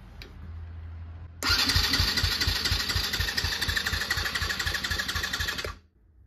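2020 Yamaha YZ250F engine cranking over during a compression test with the spark plug removed, a rapid, even chugging of compression strokes lasting about four seconds after a low hum, loud and close, then stopping abruptly.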